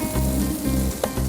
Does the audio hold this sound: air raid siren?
no